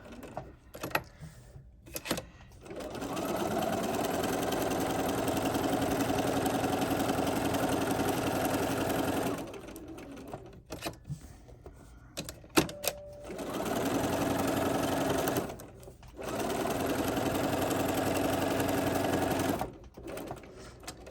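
A sewing machine stitches steadily around a cross stitch pillow, ending in a short back stitch, with a long run of motor hum broken by brief pauses and a second burst of stitching, close and clear.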